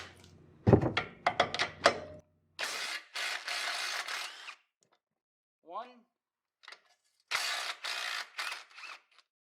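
Wrenches work on the brake caliper bolts of a Ford Focus ST during a Brembo brake install, making sharp metallic clanks and ratcheting clicks in separate bursts, close up and fairly quiet, with short pauses between efforts.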